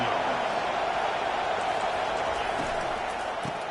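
Steady roar of a football stadium crowd at a college game between Florida and Louisiana Tech, a constant loud wash of many voices with no breaks, under a commentator talking.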